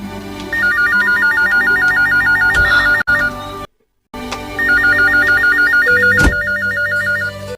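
A telephone rings in two long electronic trilling bursts separated by a brief silence, loud and close, in a radio drama.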